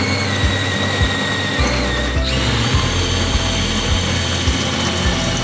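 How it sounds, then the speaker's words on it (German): A power drill pre-drills and then widens holes for the terminal posts of a DIY LiFePO4 camper-van battery, a steady whirring drone broken by short periodic bumps and clicks, loud and close with no talking. "Zunächst vorbohren. Die Löcher vergrößern."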